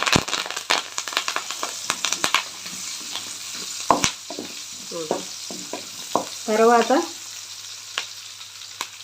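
Thinly sliced onion and curry leaves fry in hot oil in a pan for an okra masala curry. A steady, close sizzle runs throughout, broken by stirring scrapes and a few sharper crackles, and a single brief spoken word.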